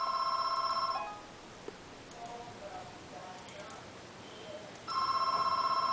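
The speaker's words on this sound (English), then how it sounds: "Just ignore that phone ringing." An old-style telephone bell rings in two bursts, one at the start and one near the end, with a quiet stretch of background between them.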